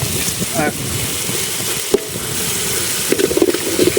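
Chicken going into a pan of fried onion and tomato over an outdoor campfire, giving a steady soft sizzle with scraping stirs and a few sharper clicks near the end.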